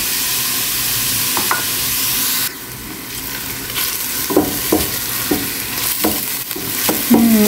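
Onions frying in a pan for mujaddara, with a steady sizzle and repeated scraping and stirring strokes of a utensil, fairly close, no talking.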